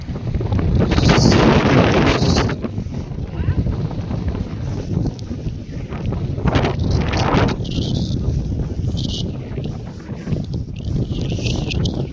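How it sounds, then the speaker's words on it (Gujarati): Strong, icy cold wind on an outdoor hillside footpath, roaring and buffeting the microphone in heavy continuous gusts, loudest at the start and never letting up. "જોરદાર પવન આવી રહ્યા છે ભાઈ, અને પાછો ઠંડો બરફ જેવો"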